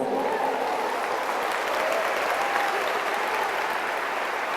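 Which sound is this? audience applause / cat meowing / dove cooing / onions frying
audience applause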